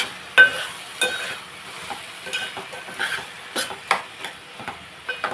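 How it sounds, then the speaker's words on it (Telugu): Bottle gourd curry cooked with milk bubbles in a pot, giving off a faint background sizzle with scattered soft pops and bursts and no voices. "ఒకసారి మళ్ళీ చూడండి, దగ్గరికి చూడండి ఉడికిపోతుంది"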